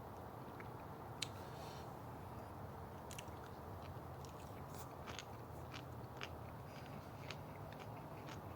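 Someone bites and chews a Gator Jigsaw chili pepper, giving faint, close crunches and wet chewing clicks at irregular intervals over a steady low background hum, with no talk.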